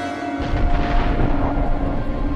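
A loud, deep rumbling blast rolls on continuously, dense and booming like a big explosion, with no voices.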